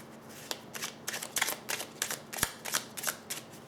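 Deck of oracle angel cards being shuffled by hand, a steady run of crisp riffling flicks at close range with one sharper card snap near the middle, no talking.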